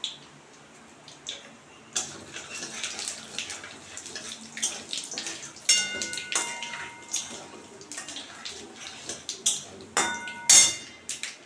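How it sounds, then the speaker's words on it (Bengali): Black cumin (nigella) seeds hit hot oil for a prawn and pumpkin-leaf bharta with a hissing sizzle. Irregular crackling bursts and sharp spits rise and fall over a quiet background, growing louder toward the end. "তেলও গরম হয়ে গেছে, এখন আমি কালো জিরে ফোড়ন দিয়ে দিচ্ছি।"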